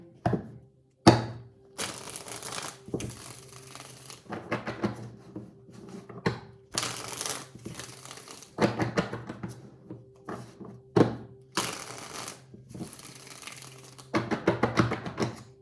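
Cards are shuffled repeatedly in brisk bursts of riffling and flicking, close and crisp, with short pauses between rounds.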